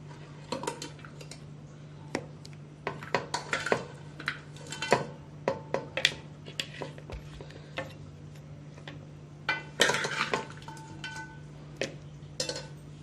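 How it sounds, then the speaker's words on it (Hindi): Mutton pieces are stirred with masala in a pot, producing irregular metallic clinks and scrapes of a spoon against the vessel, with quiet gaps between clusters. "अब इसमें सारी ये बोटियां हम डाल देंगे कि अच्छी तरह इसको मिक्स करते रहेंगे साथ साथ"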